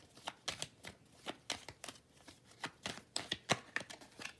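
A deck of cards shuffled for a card reading, a quick series of crisp riffling flutters and snaps in irregular bursts, close and clear with no talking.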